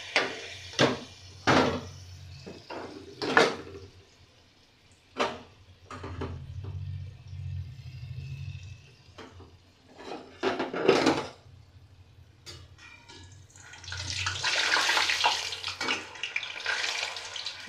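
Mango and semolina-flour batter for malpua is spooned into a hot wok, with scattered clinks of utensils before a broad frying sizzle rises and holds near the end, with no talking.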